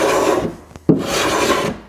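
A rasp scrapes across the shaped wooden deck of a stand-up paddleboard in close, loud, rough strokes. A short pause breaks the filing midway, then the passes resume with no talking.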